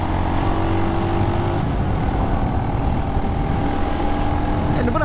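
MUTT GT SR 250 motorcycle engine heard while riding, a steady, close droning hum that holds at an even level without pauses, with wind rush mixed in and no speech.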